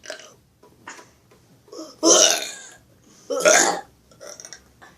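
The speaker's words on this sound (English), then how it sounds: "Yeah, you keep on burping, so I won." Two loud, drawn-out burps ring out in a playful burping contest, each lasting over a second, with quieter vocal sounds and faint talk-like murmurs scattered between them.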